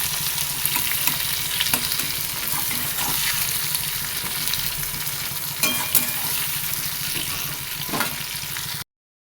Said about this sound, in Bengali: এই আলুটা ভাজা হয়ে যাওয়ার পর দেবো পেঁয়াজটা